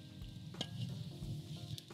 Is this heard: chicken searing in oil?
yes